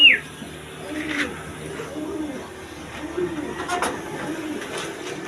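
Pigeons in a pigeon loft coo with low, soft, repeated murmurs, close by and steady, while people talk quietly in the background.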